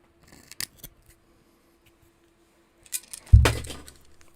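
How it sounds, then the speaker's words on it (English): A few light clicks and taps, then a sharp hard clatter as a Raspberry Pi display HAT board drops onto the floor, with a short rattling settle afterward and no voices. "That's the sound of a display hat falling onto the floor."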